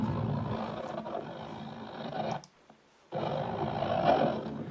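A pencil eraser rubbed across a banjo head, filtered much lower into a deep rumbling roar, loud and continuous with a short silent gap midway before it resumes.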